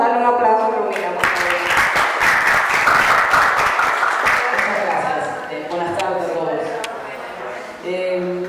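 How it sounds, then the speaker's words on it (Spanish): A seated audience applauds a speaker at a Dominican Booktube workshop during the FILRD 2016 book fair, a dense burst of clapping lasting about four seconds, with voices heard over it and before and after it. "Vamos a darle un aplauso a Romina"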